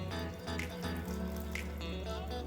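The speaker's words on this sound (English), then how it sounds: "I'm gonna take my hot broth, I'm gonna pour it in," Hot broth poured into a pan onto butter: a continuous, close splashing pour of liquid lasting a couple of seconds.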